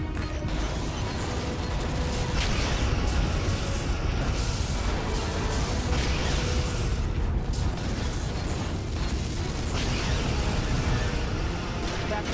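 Starship combat in the Star Trek: Legacy video game, with Romulan targets destroyed: a dense, continuous wall of loud booming explosions and mechanical rumble that stays heavy and unbroken throughout.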